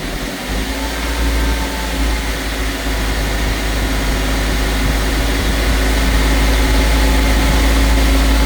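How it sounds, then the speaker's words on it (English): Porsche 997 engine revved to about 2000 rpm during an oil pressure check, a loud, steady, low engine drone held close by with no talking. "if you rev it to 2000, we should get 2 bar"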